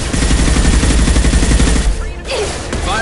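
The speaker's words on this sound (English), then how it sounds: "Firing a high-impact shot." Loud gunfire from the shooter video game Mass Effect 2 sounds close and continuous in a rapid, heavy barrage, with a short dip before the shooting resumes.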